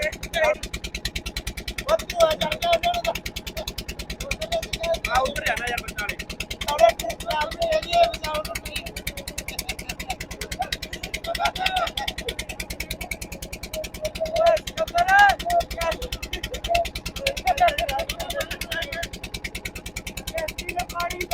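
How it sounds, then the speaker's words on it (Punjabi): A motorboat engine on the Ganga River chugs steadily as the boat pulls away from Gurdwara Kangan Ghat, its rapid pulsing drone running beneath almost constant nearby talking. "ਕਿਸ਼ਤੀ ਆਪਣੀ ਚੱਲ ਪਈ ਗੁਰਦੁਆਰਾ ਕੰਗਣ ਘਾਟ ਤੋਂ"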